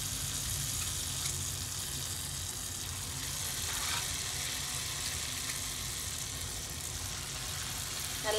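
Palmyra fruit batter spooned in small drops into hot frying oil, a steady, even sizzle and bubbling hiss that carries on without a break.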